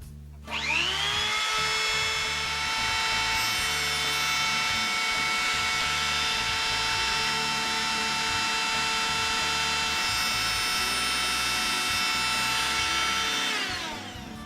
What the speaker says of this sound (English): take the spine that I have right here and run it through a sectioning tool and cut a real narrow, thin piece